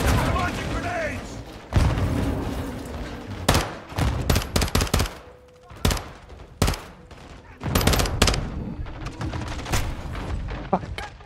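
In Call of Duty: Modern Warfare II, during a night mission in Al Mazrah, grenade launches and gunfire break out as loud, close bursts of automatic shots and thumping blasts in irregular clusters, with shouted voices between them.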